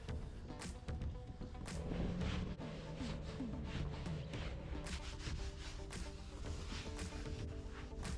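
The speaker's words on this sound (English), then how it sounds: "And I get inside the seams here with a brush. Then I just wipe off with a microfiber towel." Brush scrubbing into the seams of leather car seats, then a microfiber towel wiping them down, making steady close rubbing and scratching strokes over a constant background hum.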